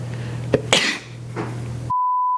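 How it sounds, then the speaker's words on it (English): A single sharp sneeze bursts out after a short breath, followed by a steady electronic beep. "I have to sneeze."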